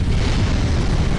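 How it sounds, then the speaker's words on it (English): A video game explosion in Star Wars Movie Battles: one dense, roaring blast of noise that fills the whole moment without letting up. "Explosion!"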